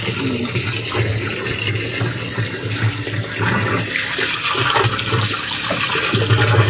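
A large water pump pushes a strong, steady rush of water out through a pipe outdoors, a continuous loud gushing and splashing with a low pump hum and no talking.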